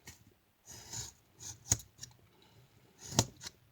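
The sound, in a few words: scissors cutting Dollar Tree craft material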